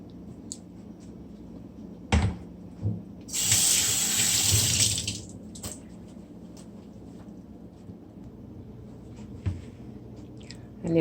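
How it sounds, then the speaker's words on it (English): Cold tap water runs into a kitchen sink as cow liver is rinsed, a steady hissing gush of about two seconds amid quieter clatter and handling noises, no talking. "And you're gonna rinse it under some cold water."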